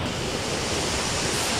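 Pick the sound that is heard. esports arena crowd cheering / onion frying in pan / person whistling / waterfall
waterfall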